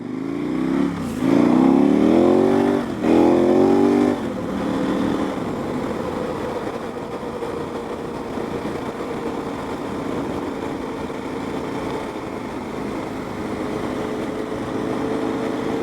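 Kawasaki ZX14 motorcycles pull away, with loud engine revs rising in pitch through a couple of quick gear changes, then settling into a steady droning engine and wind noise as the riders head off.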